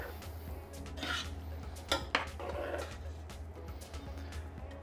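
Plates and a pan clink and clatter up close while pasta with stewed meat is served, a few sharp knocks standing out over a low steady hum.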